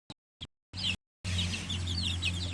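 Farmyard chickens cluck and chirp softly in the background after a few brief bursts of noise, under a low steady hum, fairly near.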